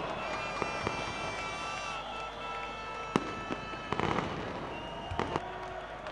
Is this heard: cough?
no